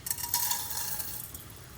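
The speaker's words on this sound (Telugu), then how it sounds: "ఇప్పుడు నెయ్యి కాగింది, ఇందులో పోపులన్నీ వేస్తున్నాను." Loud crackling sizzle as fenugreek, mustard seeds, cumin, urad dal and chana dal hit hot ghee, a dense hiss with faint stirring clinks, no talking.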